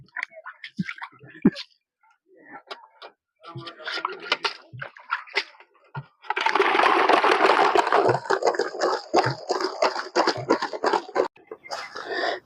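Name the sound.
washing giant crabs in water, heavy like stones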